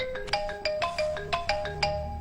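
A phone ringtone late at night, a rhythmic electronic melody of short bright tones repeating several times, close and clear with no talk over it.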